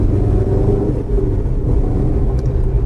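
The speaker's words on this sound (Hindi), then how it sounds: "कैबिन नॉइज़ बहुत है। तो मैं अभी दूसरे गियर में खींचता हूँ" 2023 Changan Karvaan van pulling hard in second gear, its engine and cabin noise forming a steady, loud, low droning rumble that holds without a break and with no talk over it.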